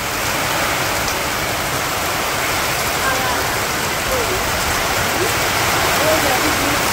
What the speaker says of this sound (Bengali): বৃষ্টি আর ঝড় মিশিয়ে নেই।